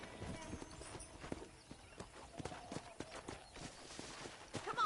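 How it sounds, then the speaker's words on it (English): Horse hooves clip-clop steadily in the Western open-world game Red Dead Redemption 2, a quiet rhythmic patter of hoofbeats moving over ground beneath a low background bed. "I picked out a fine horse for you."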